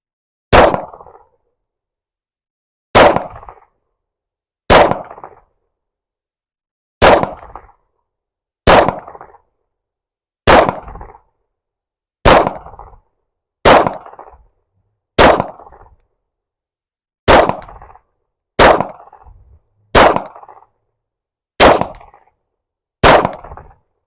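Pistol shots from an MR 920 Elite fitted with a Shadow Systems compensator, firing 124 grain ammunition outdoors at a target around 13 yards away; fourteen loud, sharp reports at an uneven pace, each decaying quickly into silence.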